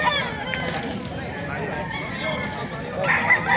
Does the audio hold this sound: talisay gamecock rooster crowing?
yes